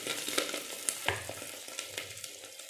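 Garlic, onion and curry leaves sauté in hot oil in a pan, crackling with a steady sizzle and a few light stirring clicks and scrapes, close by and without talk.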